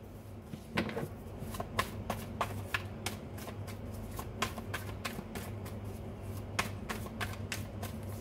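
Tarot cards are shuffled and drawn close to the microphone, making soft, irregular flicks and riffling clicks that repeat over a faint background hum, with no talking.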